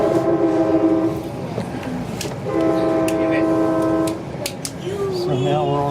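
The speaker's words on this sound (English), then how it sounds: "this train's heading to Hanford" A train near a railroad crossing close to Goshen and Visalia sounds its horn in several long chords broken by short gaps, over a rumbling passage. Voices talk beneath it.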